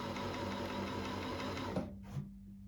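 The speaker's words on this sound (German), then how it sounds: "Nähmaschine. Guck mal, wie leise sie ist jetzt." A repaired Necchi 559 sewing machine runs with a steady, quiet mechanical hum, then stops abruptly, leaving a short click and near-silence.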